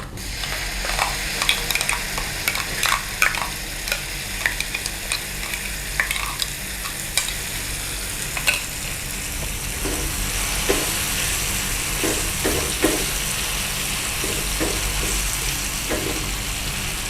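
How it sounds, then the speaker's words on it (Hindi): Cumin seeds and red garlic-chilli chutney dropped into hot oil for a tempering, sizzling loudly and continuously with crackling pops and occasional scraping stirs of a spoon against the pan. "अब हम डालेंगे ज़ीरा और इसके साथ ही हम इसमें चटनी डाल देंगे।"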